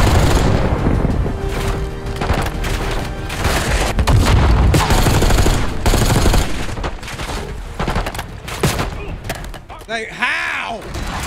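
RPG fire and explosions in the Black Ops 6 shooter, a loud chaotic barrage of repeated bursts, heavy booms and rapid gunfire layered over one another, with a voice speaking through the din.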